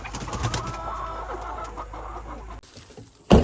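A broody hen with feathers spiked up makes low, grumbling clucks close by, followed by a sudden louder burst at the end.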